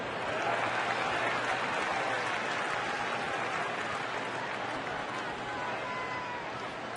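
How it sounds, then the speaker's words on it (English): A Miller Park baseball crowd gives a standing ovation, dense sustained applause and cheering that fills the stadium at an even level throughout. "a standing ovation here by this Miller Park crowd for Cory Hart"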